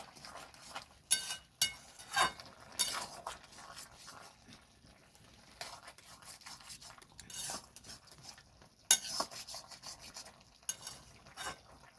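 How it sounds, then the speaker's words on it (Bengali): Panch mishali ghonto, a mixed-vegetable dish, is stirred in a pan after garam masala is added, with soft scraping and clinking spoon strokes at irregular intervals, close and fairly quiet. "ভালো করে নেড়ে চেড়ে মিক্স করে নেব।"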